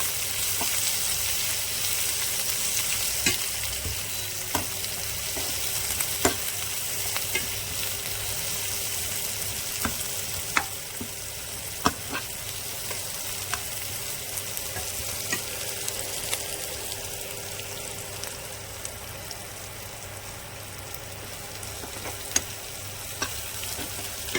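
Thinly sliced onion frying in a pan for rava upma, a soft continuous sizzle with occasional sharp ticks and pops from stirring, steady and fairly quiet throughout with no voices.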